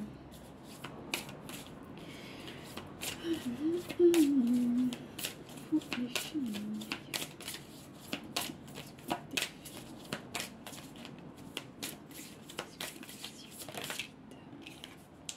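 Tarot cards are shuffled close by in repeated bursts of crisp riffling and soft flicking, with a faint voice murmuring under the card noise.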